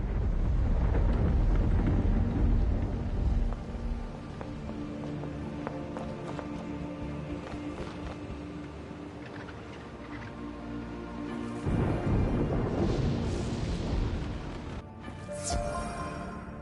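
A thunderclap lightning spell from the Wizard101 video game rumbles with heavy low booms and crackling rolls, swelling loudly at the start and again near the end over a sustained stormy wash.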